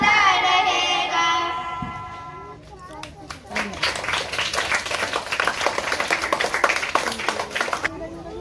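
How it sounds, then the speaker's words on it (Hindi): Schoolchildren applaud four schoolgirls after their flag song, a dense burst of many hands clapping at close range. It swells and runs on for several seconds, with a voice speaking before the clapping begins. "एक बार जोरदार तालियां इन चारों छात्राओं के लिए"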